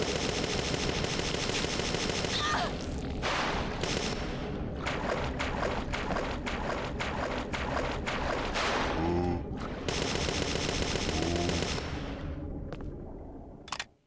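Bursts of automatic assault rifle fire ring out in Parasite Eve 2, loud and close. Rapid volleys with short gaps recur through the stretch and cut off abruptly at the end.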